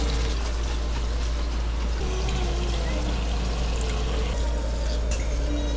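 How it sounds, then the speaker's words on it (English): Water pours steadily into a pot inside an RV, a continuous splashing rush over a low hum, with no talking. "Add a little bit of water to this."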